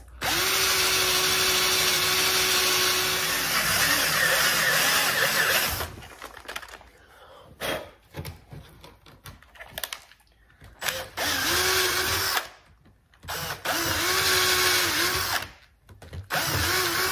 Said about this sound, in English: Okay, so I'm just going to drill this through now with a regular bit.